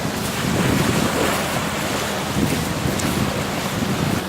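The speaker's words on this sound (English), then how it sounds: "Look at the waves coming in." Ocean waves roll in and wash up on a beach shore in a steady, continuous surf roar, mixed with strong wind buffeting the microphone; no voices are heard.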